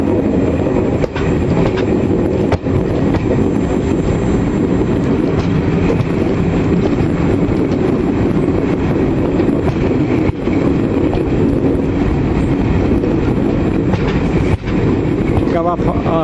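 Railtour train of twelve coaches with a Class 47 diesel locomotive at each end, a loud continuous rumble and rattle heard from on board, with occasional sharp clicks of wheels over rail joints and strong wind buffeting throughout.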